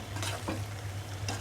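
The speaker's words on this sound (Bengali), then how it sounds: "এখন আমি শুধু মিলিয়ে দিচ্ছি ঘিটা।" Ghee is stirred into a jackfruit curry with chickpea lentils, prawns and potato in a pot, giving a few soft spoon strokes over a faint simmering sizzle and a constant low hum.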